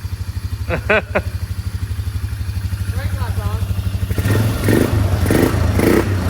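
Old four-wheeler ATV, parked for twelve years, idling after a restart with a steady low chugging, while a voice talks over it and brief clatter and revving-like bursts rise near the end.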